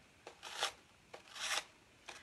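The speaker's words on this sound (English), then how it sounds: "with my sanding sponge, I'm going to go in a swiping motion from up to down" Three soft, raspy swipes of a sanding sponge over a napkin, each a brief rising scrape, quiet and close with pauses between.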